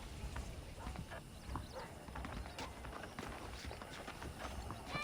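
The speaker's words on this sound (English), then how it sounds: "The horses are saddled up over here." Horse hooves clip-clop steadily on the ground in Red Dead Redemption gameplay, a soft continuous rhythm of hoof strikes at moderate distance with faint game ambience beneath and no clear talk.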